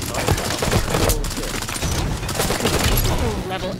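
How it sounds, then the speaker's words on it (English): Plasma caster rounds fire in Halo 5 amid a dense, continuous barrage of game gunfire and explosions, loud and crowded, with a brief voice over the din. "Plasma caster rounds incoming!"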